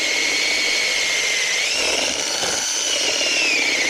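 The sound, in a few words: power drill drilling a hole in dirt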